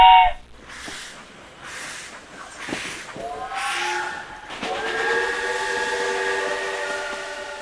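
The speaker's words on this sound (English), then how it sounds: "the Khyber Safari train runs through the rugged mountains of the Khyber Pass" The Khyber Safari steam train in the mountains of the Khyber Pass sounds its whistle in long, loud, sustained blasts, with hissing steam and rumbling rail noise underneath.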